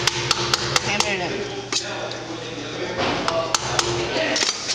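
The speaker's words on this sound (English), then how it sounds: "Hammer it in." A hammer strikes a balancing weight onto a tire rim at a tire balancer, a series of sharp metallic taps in short bursts with a pause between them, close and fairly loud over a low workshop hum.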